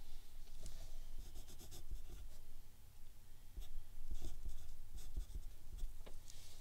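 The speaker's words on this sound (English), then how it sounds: "we're going to go ahead and write our name on our artwork" A pencil or pen writing a name on a sheet of paper artwork, steady close scratching strokes with short pauses between letters, clear and fairly quiet.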